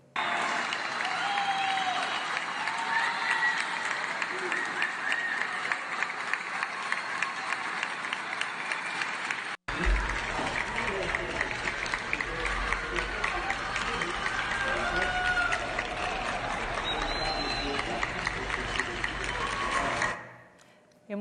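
People clapping from their homes for health workers during the coronavirus period, with sustained dense applause from many distant hands echoing across buildings, broken once by a brief cut, fading out at the end.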